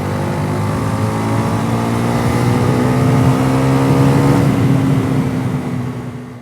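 A Bajaj Pulsar NS400Z motorcycle with a 400 cc engine accelerates hard to overtake on the road, its loud, close, steady drone climbing in pitch before easing off at the end.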